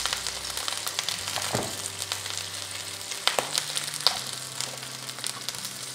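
Pumpkin fritters, made like potato pancakes, fry in a generous layer of oil, giving a steady close sizzle with a few sharp crackles and pops, and no voices over it.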